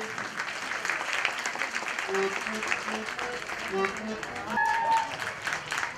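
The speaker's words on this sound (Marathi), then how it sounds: "जोरदार टाळ्यांचा" Audience clapping at a prize distribution event during a religious discourse gathering, with moderately loud applause throughout, a voice talking over it and a few whistle-like tones.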